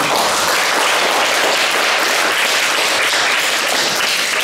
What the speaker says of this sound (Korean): 선생님 쌤을 큰 박수.